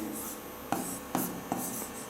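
Chalk or marker strokes on a board during an English grammar class, three distinct taps and scratches in quick succession, close and fairly soft, with no talking.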